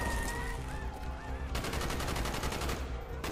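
Rapid gunfire crackles in the Call of Duty: Black Ops campaign during a street fight, bursts of automatic shots rattling loudly over a dense battle din, with brief shouts mixed in.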